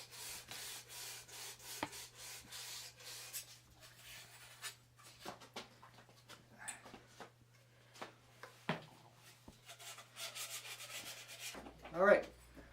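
Fine sandpaper rubbed by hand over a mountain bike suspension fork part, a quiet dry scratching in uneven strokes up close, fading to scattered light scrapes and a sharper handling knock near the end.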